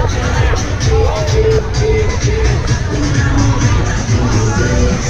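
Dense crowd hubbub at Fort Lauderdale beach with street traffic, a continuous loud babble of many voices and shuffling, with people talking nearby.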